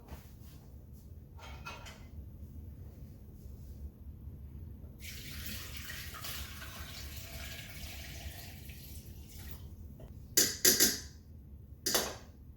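Strained homemade apple cider pours steadily into a hollowed pumpkin, a continuous splashing trickle over room noise, followed by a few short clatters near the end.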